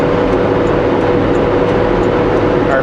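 A car engine runs steadily at high revs during a rainy drive down Paulson, a loud, constant drone with road and rain noise mixed in, no talking.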